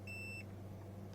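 A multimeter beeps once in continuity mode while probing a capacitor in a Retron 5 game console that has no power. The tone is steady and lasts under half a second over a constant low hum.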